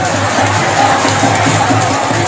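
A dense crowd packed into the streets of Prayagraj's Chowk area for the traditional Lokenath Holi festival, a steady loud roar of many voices and cheering with no pauses throughout.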